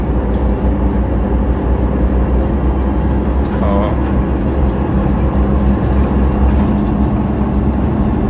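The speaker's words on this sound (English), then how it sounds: "The bus also doesn't produce particularly any interesting sounds." Low, steady diesel rumble inside a moving MAN NG313 Lion's City bus with a Euro 4 engine in Ljubljana, a continuous droning hum heard from a seat on board.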